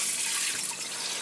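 Water runs steadily from an opened tap into a basement sink as the plumbing is drained, a constant close hiss of flow with no talk over it.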